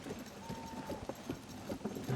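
A horse trots in The Legend of Zelda: Tears of the Kingdom, its hooves giving a steady, fairly faint clip-clop rhythm under a soft game ambience.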